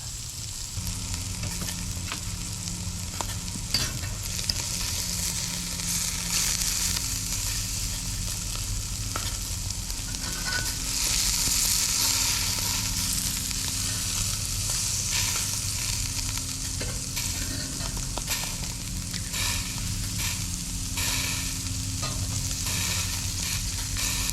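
Chicken sizzles steadily on a hot grill, a loud, continuous crackle and hiss with scattered pops, heard up close with no voices.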